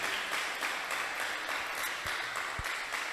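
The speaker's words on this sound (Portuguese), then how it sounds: "Uma forte salva de palmas para o Senhor Jesus." A church congregation claps in a steady, moderately distant round of applause, with a couple of sharper thumps near the end.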